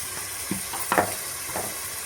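Tomatoes and homemade turmeric powder frying in a pan while cooking meal maker biryani, giving a steady close sizzle with a few brief stirring clatters and no voices.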